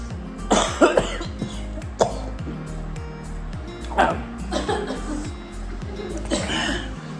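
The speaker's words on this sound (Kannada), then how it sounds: "ಇವ್ರು ಕೆಮ್ಮು ಸ್ಟಾರ್ಟ್ ಆಯಿತು" Several sharp coughs burst out one after another after eating Zola chips in a challenge, over a steady, low musical background, close to the microphone and fairly loud.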